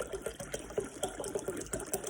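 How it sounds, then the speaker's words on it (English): Water pours from a tap into a bowl, a soft, close gurgling splash with a gentle pulsing rhythm, quiet and without speech. "So let me fill the bowl with water."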